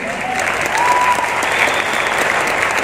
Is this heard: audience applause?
yes